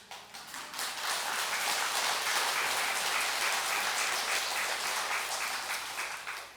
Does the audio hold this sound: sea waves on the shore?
no